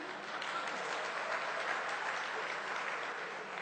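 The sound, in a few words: audience applause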